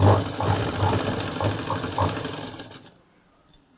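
A sewing machine stitches blouse lining at a slow, even pace, its needle thumping in a regular rhythm for a few seconds before stopping, close and clear with no talk.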